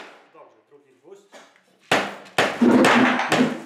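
A few sharp hammer blows ring out close by, following brief soft talking, each strike loud with a short metallic ring.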